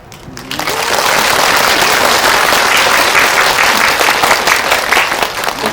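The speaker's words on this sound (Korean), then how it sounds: "답변을 하실 때마다 이렇게 박수를 쳐주시는 게 약간 콘서트장이고" Loud audience applause at a Korean film talk and Q&A with the director and cast of New Normal, swelling quickly after a brief voice and holding as a dense, steady roar of clapping.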